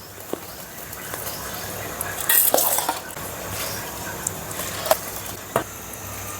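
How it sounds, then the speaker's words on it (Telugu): Washed basmati rice is stirred in a pot of boiling water for egg biryani, a continuous bubbling hiss broken by occasional scrapes and metallic clinks of the spoon against the pot, with no voices. "ఒకసారి రైస్ మొత్తాన్ని ఇలా కలిపేసుకోవాలి ఒకసారి"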